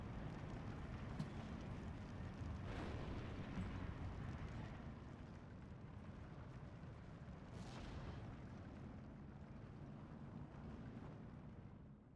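Sturm Tiger rocket mortar rounds explode in the Steel Division 2 war game, deep heavy booms over a constant low battlefield rumble, with a couple of sharper blasts standing out.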